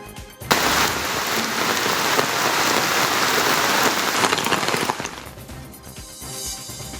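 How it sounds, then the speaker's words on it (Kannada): Heavy monsoon rain pours down in Mangaluru as a dense, loud, continuous hiss of drops hitting surfaces, starting abruptly and easing slightly toward the end, with no voices. "ಮಂಗಳೂರಲ್ಲೂ ಮಳೆಯ ಆರ್ಭಟ ಜೋರಾಗಿದೆ"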